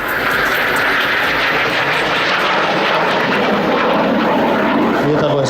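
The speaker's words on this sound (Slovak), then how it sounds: "Lietadlo je schopné lietať na menších polomeroch, ako som hovoril, je to kategória L-39 alebo cvičných bojových prúdových lietadiel." An L-39 jet trainer at an air show roars steadily overhead during aerobatic manoeuvres, a loud, continuous broadband engine rush with a faint public-address announcer underneath.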